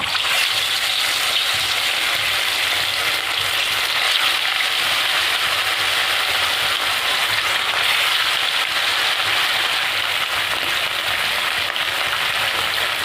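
Pieces of fish fry in hot oil in a wok, giving a steady, loud, even sizzle that holds without a break.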